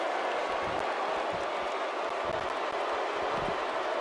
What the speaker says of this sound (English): I don't think I've ever heard this Uniondale crowd more excited for a match.